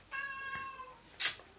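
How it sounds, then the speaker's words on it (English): A pet cat lets out a loud, drawn-out meow close by, and a short sharp yowl or bump follows near the end, with nobody talking. "My cat is screaming at me right now."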